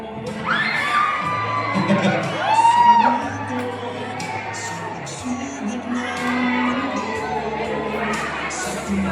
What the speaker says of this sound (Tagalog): Ano yung tili?